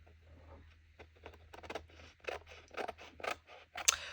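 Scissors trim through paper while making scrapbook base pages, a series of quiet, close crisp snips and rustles in an irregular rhythm with no talking.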